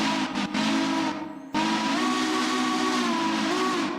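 A steam locomotive whistle in the railroad game Railroader, a loud chime-like tone with a brief toot, a short gap, then a long sustained blast, near and clear.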